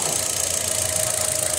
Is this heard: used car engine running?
yes